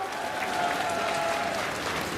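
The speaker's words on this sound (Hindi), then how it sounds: "सही है तो ताली बजाओ।" Steady, loud applause from a large political rally crowd in Madhya Pradesh keeps going for a couple of seconds as many hands clap together in a thick, even wash, with faint voices in the mix.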